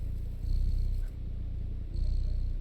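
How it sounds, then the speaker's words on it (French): A cat purrs in the video game Stray, a steady low rumbling purr that swells and eases in slow cycles, close and alone with no talk. "Écoutez le ronronnement du chat."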